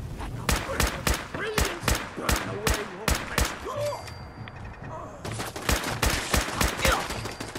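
A grenade blast amid combat in the video game Fallout 4: a rapid, loud run of close gunfire with booming impacts, one heavier thud in the middle, with no talking.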